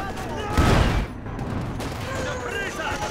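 A loud, close burst of rapid gunfire in the video game Company of Heroes 2, followed by quieter background shooting and battle noise.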